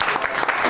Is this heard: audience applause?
yes